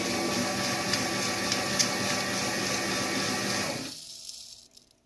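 Liquid dispensing machine pumping out about eight ounces, a steady whirring, gurgling flow for roughly four seconds that then cuts off and fades into quiet.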